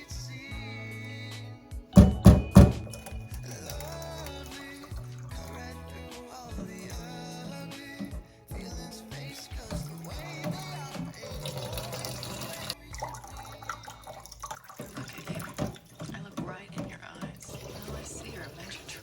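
Film developer from bottles labeled A, B and C is poured into water while being stirred: soft trickling, sloshing and splashing with a few louder bursts, fairly faint and close, under occasional talk.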